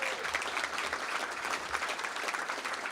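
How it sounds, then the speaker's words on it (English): An audience applauds a pledge to invest $3 billion in Detroit, steady dense clapping from a crowd filling the room at an even level throughout, with no voices above it. "That deserves a round of applause."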